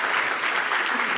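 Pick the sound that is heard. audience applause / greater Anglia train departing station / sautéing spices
audience applause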